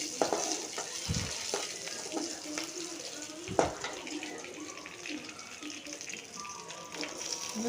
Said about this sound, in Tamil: லேசாக ப்ரௌன் கலர் ஆகிற வரைக்கும் நல்லா வறுத்துக்கலாம் எண்ணெயில்